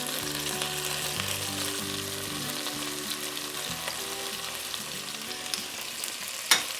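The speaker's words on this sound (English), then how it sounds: "As each side starts to brown, I keep turning it so that all the sides get evenly browned." Pieces of meat browning in a frying pan for a Dutch jachtschotel casserole, a steady sizzle with a low hum beneath and occasional soft scrapes and knocks as the pieces are turned, including one sharp clank near the end.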